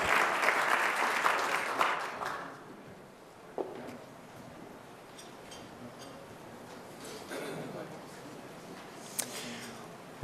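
Conference audience applause after a senator's speech at a Conference on the Americas: a dense burst of clapping that fades after a couple of seconds into a murmuring room with scattered claps and talk.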